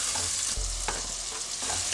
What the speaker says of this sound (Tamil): தக்காளியும் நல்லா வந்து வதங்கட்டும்.